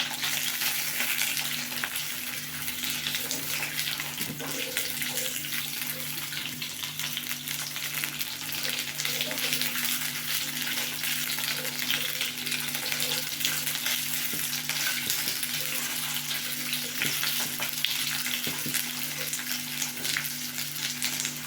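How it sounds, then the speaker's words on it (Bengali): Potatoes fry in oil in a covered pan while Parshe fish curry is cooked, giving a steady, even sizzle that runs unbroken throughout, with faint stirring and no talk. "আলুটাকে একটু ভেজে নেবে"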